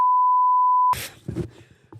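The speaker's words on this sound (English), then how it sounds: "That part's getting beeped out." A censor bleep covers a word: a steady, pure electronic tone lasting just under a second, cut off abruptly and followed by faint, muffled voice sounds.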